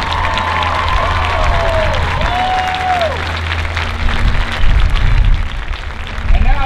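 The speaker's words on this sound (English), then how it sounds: "Let's give them a big, warm round of applause." A large crowd at a Delta State University football stadium event applauds in a sustained wash of clapping and some cheering, with a public-address voice and ringing tones heard underneath.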